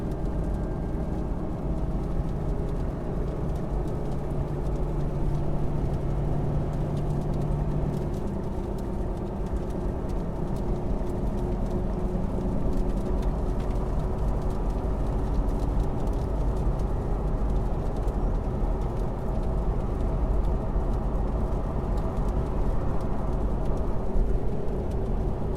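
Jeep Gladiator pickup towing a Geo Pro camper, its engine droning steadily under light throttle with a continuous low rumble of road and wind noise from inside the cab.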